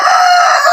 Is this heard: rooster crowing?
yes